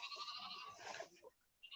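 Sheep kept grazing grass on a solar panel site bleat in a loud, wavering, close call that trails off, with a fainter bleat beginning at the end.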